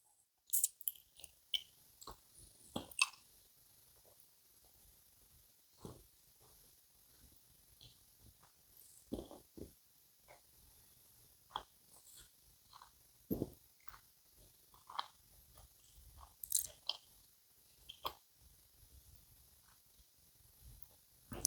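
Spicy jalapeno-flavoured gummy sweets being chewed close up, with soft wet squishing bites and brief sharper clicks scattered irregularly over about twenty seconds, otherwise quiet with no talking.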